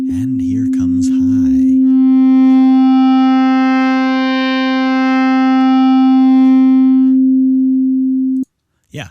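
A steady sine tone passed through a harmonic saturation effect, held for about eight seconds, rich with stacked bright overtones that give it a buzzy, saturated edge, cutting off abruptly near the end.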